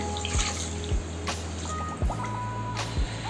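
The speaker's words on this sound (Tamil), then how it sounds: "அரை லிட்டர் தண்ணி சேர்த்துக்கிறேன்" Half a litre of water is poured into a pan for sugar syrup for gulab jamun, a steady close splashing stream with a few louder gulping bursts as it fills.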